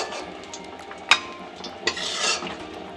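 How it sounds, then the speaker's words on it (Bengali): Raisins frying in a pan give a soft ongoing sizzle, broken by a few sharp clinks of a utensil against the pan, close by in a home kitchen. "তো কিশমিশগুলো ভেজে নিলাম"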